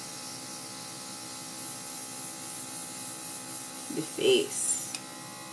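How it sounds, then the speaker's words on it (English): A Temptu airbrush sprays highlight makeup onto a face in a steady, faint hiss beneath a woman's speech, with a few short bursts near the end as the lever is pulled back repeatedly. "I'm just lightly pulling back on the lever, repeatedly, releasing small amounts at a time."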